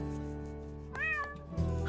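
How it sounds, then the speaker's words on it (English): A cartoon cat in a Bob the Builder episode meows once, a clear rising-and-falling call over a soft, steady musical background, followed by a low thump. "whilst I tend to my cat"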